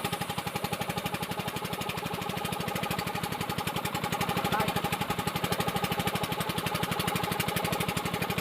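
A small motor runs steadily at a small-scale gold-mining site, close and fairly loud, with a fast regular chugging pulse and no talk over it.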